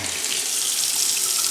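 Water gushes steadily from a kitchen faucet into a copper farmhouse sink, a loud continuous splashing hiss with no pauses.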